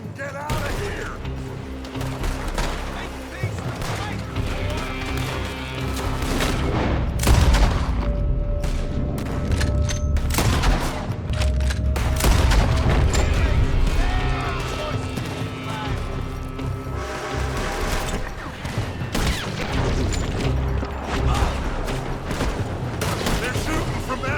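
Rapid volleys of gunfire in Red Dead Redemption 2, shots cracking near and far across a town firefight, with in-game voices shouting over the steady shooting and a heavier boom around midway.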